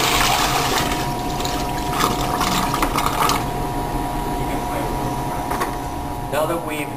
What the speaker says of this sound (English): Pour it across all surfaces, ensuring that all the cleaner and oil has left